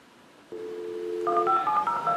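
Telephone keypad dialing tones beep in a quick sequence, loud and close, with no talking over them.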